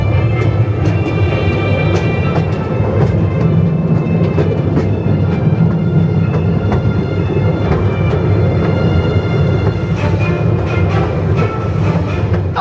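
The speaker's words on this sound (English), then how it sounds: "A nice ride round there on the train." From on board a theme park railway train at Gulliver's World in Warrington, a loud continuous rumble and rattle of the carriages rolls on with rhythmic clicks and clanks, close and steady throughout, with no one speaking.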